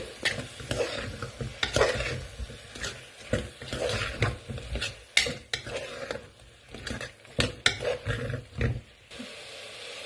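Soya masala mixed in curd frying in a pan until the oil separates, heard as a close sizzle broken by repeated loud scraping stirs of a spatula, uneven and busy throughout.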